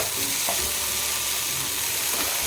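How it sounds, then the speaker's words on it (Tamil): Steady close sizzling of garlic idli upma frying in a pan, with soft scraping as it is stirred. "இப்போ எல்லாத்தையுமே நல்லா கலந்து விட்டுக்கலாம்."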